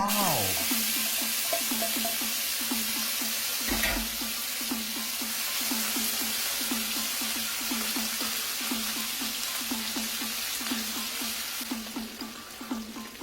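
Canned sardines sizzle steadily in a hot pan for Filipino sisig, with a regular scraping stir ticking through the frying, fairly close and even in level.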